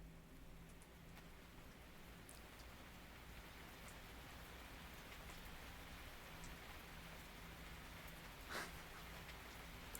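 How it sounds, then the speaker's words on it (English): A rain sleep-sounds recording plays softly as a steady hiss of falling rain with scattered drops and a brief rustle, faint throughout. "The rain one."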